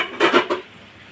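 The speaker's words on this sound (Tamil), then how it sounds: "கறியை போடுங்க. அப்புறம் வதக்குங்க." Pieces of meat drop into a hot pan and get stirred, giving a short burst of clattering and scraping with a faint sizzle, close and brief.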